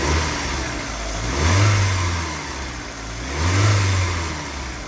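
A 1992 VW Corrado 16v engine runs near at a steady idle, rising twice into short throttle blips that swell and fall back, with no voices.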